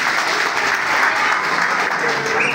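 A crowd at a campaign event applauds the candidates, giving steady, full clapping that stays close and loud throughout.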